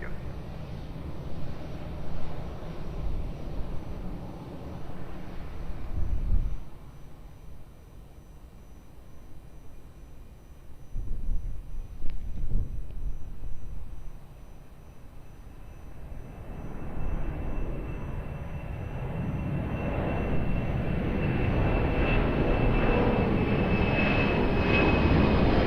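An airliner takes off from a runway at Lisbon Airport, its jet engines swelling from a distant rumble into a sustained, loud roar that builds steadily toward the end.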